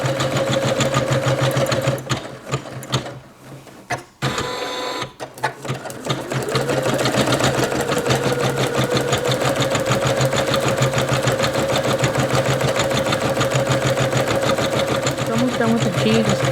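An embroidery machine stitches a name onto a plush Santa gift sack with a steady, fast mechanical rattle and hum, pausing briefly near the start, while a person talks over it.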